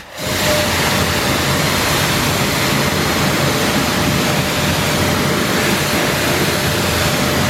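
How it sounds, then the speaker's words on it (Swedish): Water sprays steadily onto car wheel rims during rinsing, a constant loud hissing rush that starts abruptly and continues evenly without pause. "nu ska jag spola av det"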